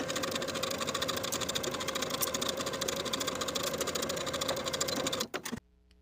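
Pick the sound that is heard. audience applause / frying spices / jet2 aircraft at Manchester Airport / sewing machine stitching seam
sewing machine stitching seam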